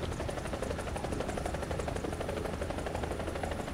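A helicopter in a video game gives a continuous, dense rotor buzz with a fast, steady chopping pulse that stays even throughout.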